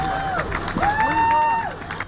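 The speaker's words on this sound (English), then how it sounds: "friends and family clapped as the stars of the night walked along the red carpet" Friends and family clap and cheer as the evening's stars walk along a red carpet at a dance event, a dense, continuous crowd noise with voices calling out over the applause.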